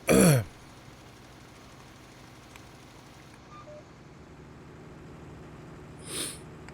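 A single short, loud throat clear right at the start, then quiet low background hum with faint game noises and a soft puff near the end.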